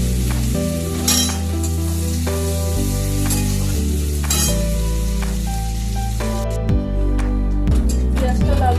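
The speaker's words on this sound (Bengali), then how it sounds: "পেঁয়াজটা একটু লাল লাল করে ভেজে নেব।" Chopped onions fry in a pan until reddish, a steady, close, continuous sizzle that runs the whole time beneath prominent background music.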